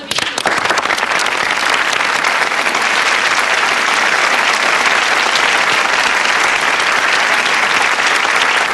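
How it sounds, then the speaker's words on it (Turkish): A crowd gives sustained, loud applause for contestants at the end of a competition, dense clapping filling the whole stretch without letup. "yarışmaya katılan ve dürüstçe yarışan arkadaşlarımız için bir alkış istiyorum"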